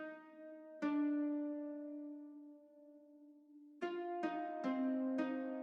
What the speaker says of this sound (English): they have like a Latin guitar in the background